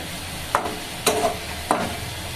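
Ground spice paste for catla fish kalia sizzles steadily in a pan, broken by three brief scraping bursts as it is stirred.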